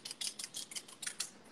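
Hairdressing scissors snip through hair for fresh bangs in a salon, giving about eight quick, crisp metallic clicks in a steady rhythm, close and fairly quiet with no talking.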